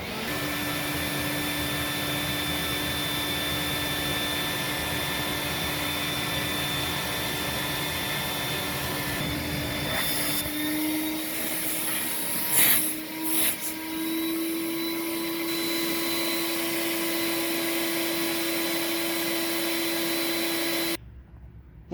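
A Thermax AF2 vacuum cleaner with a power nozzle attached runs with a loud, steady motor whine and airflow roar for about twenty seconds, with a brief rattling bump midway, then cuts off abruptly.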